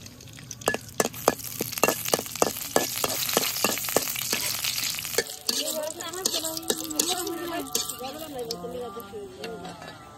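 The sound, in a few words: dried chillies frying in mustard oil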